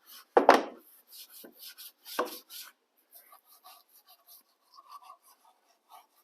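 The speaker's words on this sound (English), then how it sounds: "So we'll grab a brush like this, just go all over wherever you can see dirt might accumulate" A brush scrubs a foamed plastic engine cover during engine bay detailing, giving short bursts of bristly rubbing strokes, two louder ones early, then lighter scattered scrubs with quiet gaps between them.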